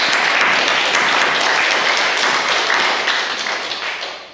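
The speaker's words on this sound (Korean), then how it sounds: "박수로 하나님 앞에 영광을 드리겠습니다" Church congregation clapping together during a worship service, a dense, sustained round of applause filling the room that stays loud before tapering off toward the end.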